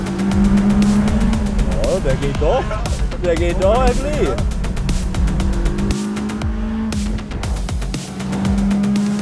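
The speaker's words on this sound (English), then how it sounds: "For the first time ever, a car is running on solar gasoline." A car running on Synhelion solar gasoline drives steadily with a continuous engine drone and rolling noise throughout, while people talk excitedly over it.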